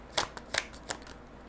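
Tarot cards handled and drawn during a reading, three soft quick card flicks and slides close by, quiet with no talk.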